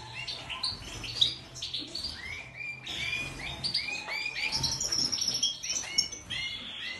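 Mutation goldfinches in a breeding cage sing continuously, with rapid bright chirps, twitters and trills overlapping close by over a faint background hum, no talk.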